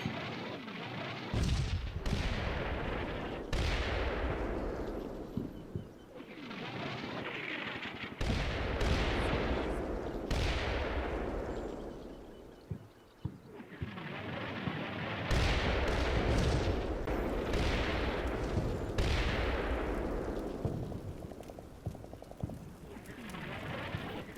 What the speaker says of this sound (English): Artillery starts its deadly work.